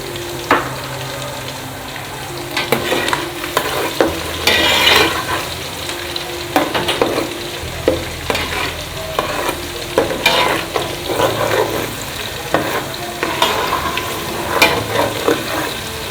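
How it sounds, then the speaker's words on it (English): Onions frying in a pan over high heat make a continuous close sizzle, with frequent rhythmic scraping and clanking from stirring throughout, and no talk. "So allow your onions to fry for a minute or two."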